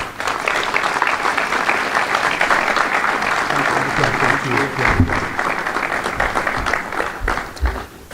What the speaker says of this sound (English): let's give a nice big round of applause for Dr. Dennis Marshall.